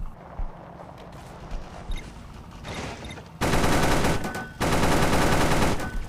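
Gunfire rattles through a tank battle in the Clash of Panzer video game. Scattered shots come first, then two long, loud bursts of sustained automatic fire with a short gap between them, close and dense.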